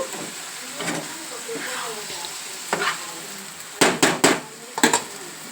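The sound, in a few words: masala frying in a pan for paneer peas curry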